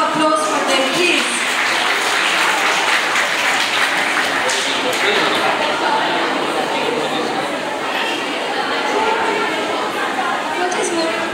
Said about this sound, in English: Please give a huge round of applause for them, please.